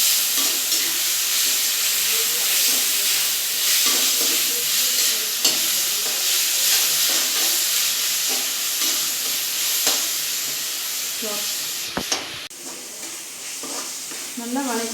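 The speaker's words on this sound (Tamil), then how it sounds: "நல்லா ஒரு பச்சை வாசம் இது போகிற வரைக்கும் நல்லா வணக்கிக்கோங்க." Masala for soya chilli idli sizzling and being stirred in a pan, a continuous close frying hiss with scraping utensil strokes throughout and a brief clatter near the end.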